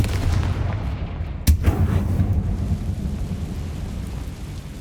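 A Confringo fire spell explodes in the video game Hogwarts Legacy as a single sharp boom that rolls into a short rumble over constant low, rainy-sounding ambience.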